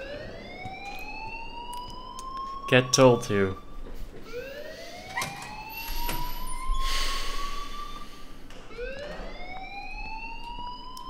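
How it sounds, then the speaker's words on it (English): An alarm in the video game Life Is Strange sounds as a repeating rising wail, each sweep climbing in pitch and then cutting off, heard at moderate level under brief talking and some thumping noises. "please turn off that alarm since that's your job"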